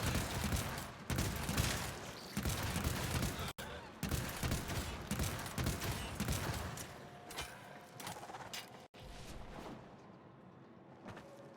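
Rapid bursts from the Scourge weapon in the video game Warframe, a dense barrage of firing and impact blasts that runs in loud stretches, breaks briefly twice, then thins and fades toward the end.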